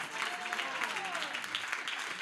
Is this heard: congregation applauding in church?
yes